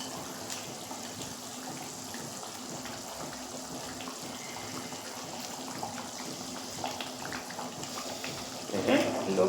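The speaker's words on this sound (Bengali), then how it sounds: "ঝোলটা ফুটছে, এবারে মাছগুলো আমি দিয়ে দিচ্ছি।" Rohu fish kalia gravy bubbling steadily in a pan at home, a continuous soft simmering hiss, with a louder splash and sizzle near the end as the fish pieces go in.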